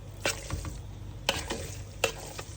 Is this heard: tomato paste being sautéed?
yes